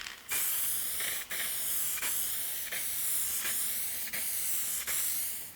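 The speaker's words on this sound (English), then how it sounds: "give it a few thin coats of lacquer" Thin coats of lacquer sprayed from an aerosol can onto aluminum leaf: a steady close hiss, broken by brief pauses roughly every second or so as the nozzle is released and pressed again.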